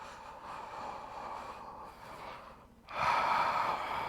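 A slow, deep breath taken during a yoga pose, a long airy inhale that pauses, then a fuller, louder exhale rushing out close to the microphone.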